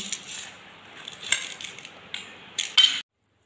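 Metal spoons clink against bowls as homemade ice cream is served, a few light, sharp chinks scattered over quiet room tone and ending in a brief cluster.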